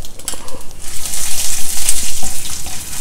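Peanuts, urad dal and chana dal frying in hot oil, a steady dense sizzle with faint stirring clatter, close and continuous throughout.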